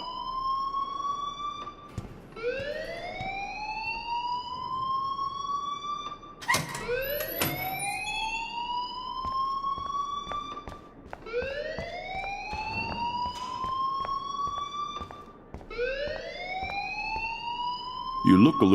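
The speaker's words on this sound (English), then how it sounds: "please turn off that alarm since that's your job" Rising, wailing alarm tones in the Life is Strange video game, sweeping upward again and again in a steady cycle, loud and close, with speech underneath.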